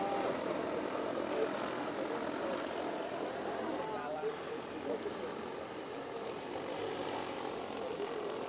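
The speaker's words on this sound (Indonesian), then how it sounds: "Jadi drone ini bisa pergi sampai 60 meter atau 70 masih bisa diaman." An agricultural sprayer drone flies over a durian orchard with a steady, continuous propeller whine throughout, heard at moderate distance beneath background voices.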